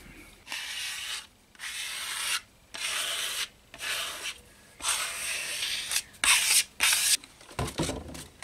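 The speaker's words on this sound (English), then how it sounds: "we need to fill in the wood grains and sand it down again" Hand sanding a primed wooden Fender P Bass body to smooth filled grain, a loud close rasping scrub in repeated strokes of about a second each, separated by brief pauses, with no talk.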